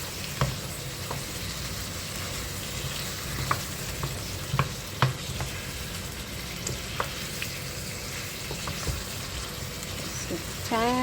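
Courgette and chicken frying in a pan while being turned with a utensil, a continuous moderate sizzle broken by occasional knocks and scrapes against the pan.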